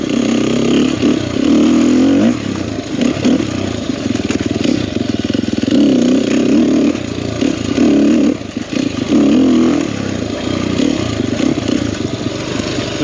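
A Sherco 300SEF four-stroke dirt bike ridden on mountain single track, its loud, close engine rising and falling in repeated revving surges with brief throttle dips, without any talking.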